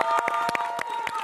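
Audience applause and cheering on a live reality show, a short loud burst of clapping mixed with crowd whoops.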